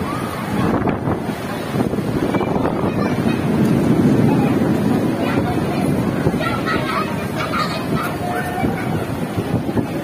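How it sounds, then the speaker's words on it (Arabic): A strong storm wind roars against the microphone while rough sea waves crash and surge nearby, a loud, continuous turbulent rush that swells and ebbs throughout. "شوف غادي بحر شوف شوفوا قوة الرياح"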